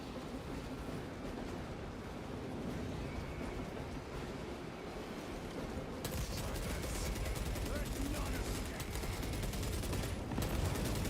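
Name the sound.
heavy bolter gunfire in video game Warhammer 40,000: Space Marine 2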